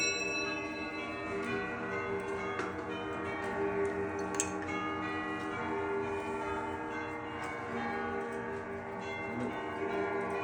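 A large clock collection chimes and rings at once, a dense, sustained wash of overlapping bell tones and ringing with scattered ticks and strikes, steady and fairly loud with no talking.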